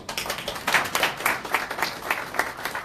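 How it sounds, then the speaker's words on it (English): Seminar audience in China applauding to welcome a speaker to the floor, a dense, continuous patter of many hands clapping at moderate volume, steady throughout with no voices over it. "Please let's give our warmest applause to Mr. Wong"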